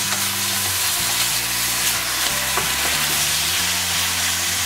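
Pork shoulder sears and caramelizes in a hot pan for Japanese-style chashu, a steady close sizzle with light stirring scrapes and a low steady hum beneath, no voices.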